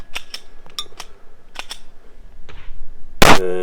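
Rifle shots crack at a shooting competition stage, a string of sharp separate reports spread over a few seconds with uneven spacing, ending in one louder, closer blast.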